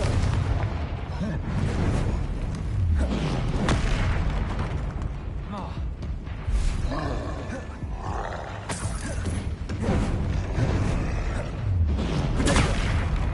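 Confringo explosive spells cast in the game Hogwarts Legacy, with loud repeated booms and blasts amid a dense, continuous din of magical combat effects and a voice calling out.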